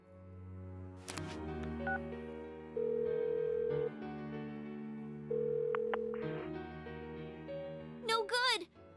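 An unanswered phone call in Persona 4 Golden, a steady synthesized ringback tone pulsing in long even beeps, close and clear, with short electronic blips at the start and a brief voice near the end.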